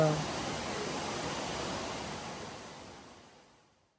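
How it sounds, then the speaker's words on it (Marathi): Kandhar Doh, a waterfall that flows all year, roars as a broad, steady rush of falling water, loud and continuous before fading out at the end. "हा 12 महिने वाहणारा असा धबधबा आहे."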